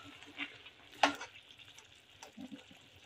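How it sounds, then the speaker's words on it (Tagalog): Spicy chicken feet adobo in vinegar being stirred in a pan, a faint, soft sizzle with one brief, sharper scrape of the spoon near the middle. "Ayan, nahaluin na naman po natin."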